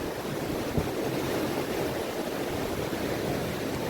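Surf rolls onto a seashore in a steady, broad wash, with one brief knock near the start and no voices.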